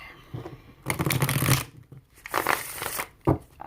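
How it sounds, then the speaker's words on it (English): Tarot cards are shuffled by hand in several bursts, close and crisp, with short pauses between each riffle and no talking. "I'm just gonna shuffle and I'm gonna see what comes out"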